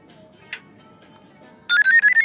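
A Flexi mobile phone plays its startup ringtone on being switched on: a short series of bright electronic chime notes rising after a quiet pause and a brief click, close and clear.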